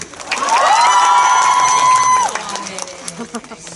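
A large audience at a live movie talk event cheers loudly and applauds, a sustained roar with high-pitched shouting that swells quickly and then tapers off into lighter clapping and speech.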